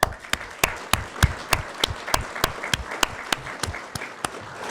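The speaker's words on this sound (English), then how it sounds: "Let's give them a round of applause." A small crowd at a regional government awards ceremony gives a round of applause, distinct claps in a quick uneven rhythm, close and moderately loud, without speech.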